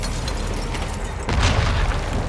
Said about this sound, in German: Alles explodiert.